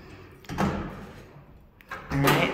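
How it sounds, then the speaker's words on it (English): The door of a tiny two-person apartment lift opens in two bursts of rumbling sliding motion, each ending with a soft thud, heard close with a quiet pause between them. "that just opens, and then there is the little tiny two-person lift"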